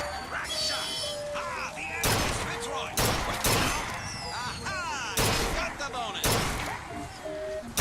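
Rifle shots in Bioshock Infinite from a gun that sparks lightning as it fires: five or so loud, cracking blasts, two in quick succession, punch through a steady layer of game ambience.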